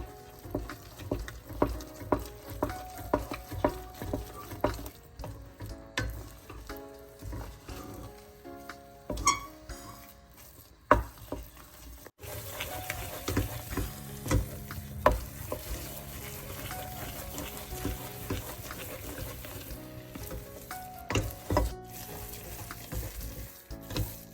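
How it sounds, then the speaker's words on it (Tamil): Rava kesari cooks in ghee over a low flame while it is stirred continuously in a pan. Repeated spoon scrapes and taps come first, then a denser, steady sizzle with more scraping, all close by and without speech. "நெய்யை விட்டுட்டு அடுப்பை நல்லா குறைச்சிட்டு கிண்டி கொண்டே இருக்கணும்"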